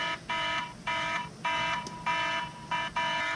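FOBO 2 tire monitor sensors sound their alarms during a battery change. Repeated loud electronic beeps come in evenly spaced bursts of about half a second, close up, with no talking.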